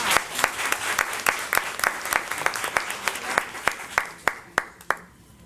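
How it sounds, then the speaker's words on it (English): An audience at a county board of education meeting gives a round of applause, a dense patter of hand claps that thins to a few sharp, spaced claps as it fades out. "So let's give her another round of applause."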